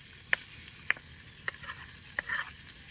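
Tilapia frying in a small pan outdoors on a farm, a soft steady sizzle broken by four sharp pops or spatters spaced about half a second apart.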